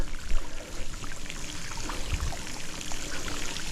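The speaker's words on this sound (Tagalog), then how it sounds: "Malinaw ang tubig sa batis." Clear water of a mountain stream in the Sierra Madre flowing and trickling over rocks, a steady close babbling with small splashes and no talk.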